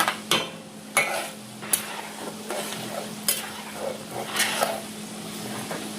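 Salt is stirred into hot oil in a pan while making poha chivda, a soft sizzle underneath with repeated scraping strokes of a spoon against the pan at irregular intervals, close and fairly quiet, with no voices.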